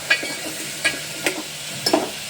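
Paratha shak stirred in a pan, with a few separate soft scraping strokes spaced about a second apart over a faint sizzle.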